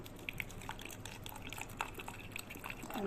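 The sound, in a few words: water poured into garlic and raw peanut paste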